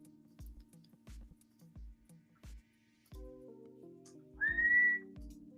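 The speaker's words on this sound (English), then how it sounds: "I shouldn't whistle along." A man whistles a short, clear tune near the end, rising over a quiet looping background of soft ticks and low tones.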